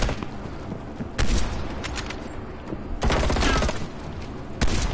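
Gunfire from the video game Call of Duty: Cold War comes in three short, sharp bursts spaced a couple of seconds apart, fairly quiet over a low background of game noise.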